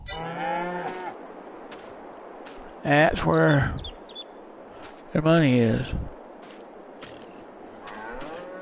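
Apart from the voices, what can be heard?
beef cattle mooing on a farm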